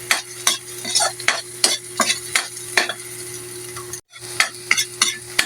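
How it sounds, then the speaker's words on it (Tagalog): Garlic and onion sizzling in hot oil for pancit, with the crackle of frying under repeated scraping stirs of a utensil against the pan, close and fairly quiet, broken by a brief gap. "Salang ko lang itong mantika. Ayan, binibisa na natin yung bawang sibuyas."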